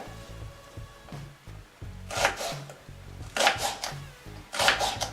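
A knife chops white onions on a cutting board in a home kitchen: irregular bursts of sharp, close knocks, grouped in short runs with pauses between.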